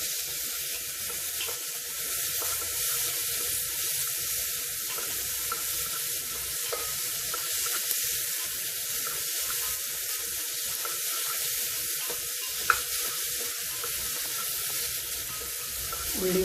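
Onion wilting in a hot pan gives a steady, even hiss that runs on unbroken, sounding much like running water, with faint clicks scattered through it.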